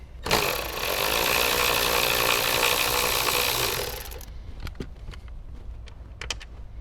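Power tool, likely a drill or impact driver, running steadily for about four seconds to remove 12mm bolts from a Toyota Tacoma seat bracket, followed by scattered clicks and handling knocks.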